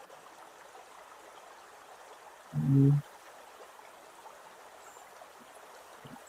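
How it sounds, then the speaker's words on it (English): Steady flowing stream water runs throughout, a constant soft rushing wash, with one brief spoken interjection partway through. "listen to some water"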